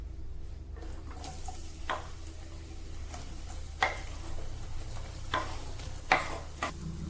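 Sliced onions frying in hot oil in a pan for mutton biryani, a continuous close sizzle with several sharper scrapes and clinks of a utensil stirring, no voices.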